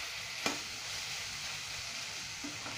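Fenugreek leaves fry for potato sabzi in a pan, making a continuous close sizzle with stirring sounds and one sharp clink of a utensil early on.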